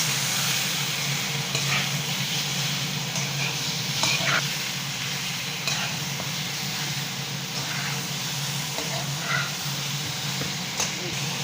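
Chicken stirring and sizzling in a curry pan with masala, a steady dense frying hiss with scraping strokes of the spoon throughout, fairly close.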